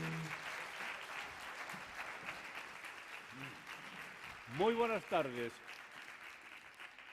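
Audience applause at a carnival gala in Asturias, a soft, steady wash of clapping running throughout, with a voice speaking briefly over it partway through.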